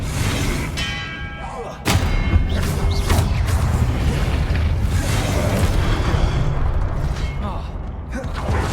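Confringo fire-blast spells in Hogwarts Legacy, sharp booming explosions and thuds amid continuous loud combat rumble, with a shouted voice over the action.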